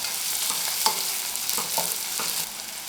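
Capsicum sautéing in a pan for Chinese prawn fry biryani, a constant close sizzle with scattered stirring scrapes, loud and steady throughout.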